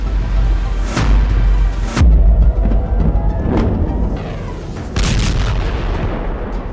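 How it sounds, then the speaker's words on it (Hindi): Iranian missiles striking Tel Aviv and Haifa: loud, heavy booms and blasts in quick succession, with sharp impacts around two, three and a half and five seconds over a continuous rumbling roar. "तेल अवीव और हाइफा में गिरती हुई ईरान की मिसाइल देखिए।"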